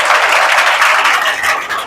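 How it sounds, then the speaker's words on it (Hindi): A church congregation at an Easter Sunday service bursts into loud, sustained applause, dense overlapping claps filling the room close up and tapering slightly toward the end. "यीशु मसीह के लहू के लिए भरपूर तालियां बजाएं।"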